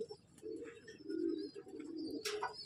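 An Andhra breed pigeon coos in low, rolling phrases close by, three or four soft calls in a row, with faint chirps and a brief rustle in the background.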